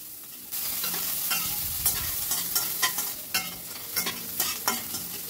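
Chopped onion stirred into hot spiced oil in a pan, with a brisk run of regular spatula scrapes over a continuous close sizzle.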